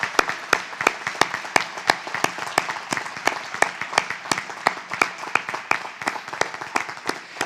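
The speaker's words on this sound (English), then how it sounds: "One more round of applause for all of our graduates." Graduates at a community college commencement ceremony receive a sustained round of applause from the audience, with dense, steady clapping and sharp individual claps standing out across the whole stretch.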